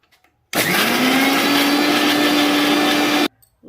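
A mixer grinder blends a fish kebab mixture with salt, a loud steady whirring hum that starts abruptly, runs for almost three seconds and then cuts off.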